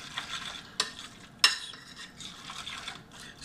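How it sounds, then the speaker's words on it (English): A spoon stirs tuna salad in a bowl with a wet, squelching scrape that comes in repeated strokes, broken by two sharp clicks of the spoon against the bowl. "I'm gonna mix it up good, just the same spoon that I used for"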